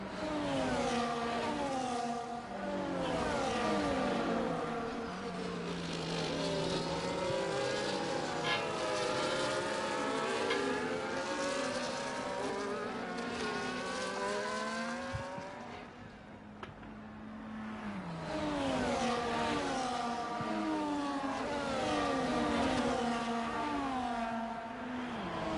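A field of race cars in a racing video game rolls behind the safety car at the Vegas circuit. Their layered, whining engine tones glide up and down in pitch, dip briefly near the middle, then swell again.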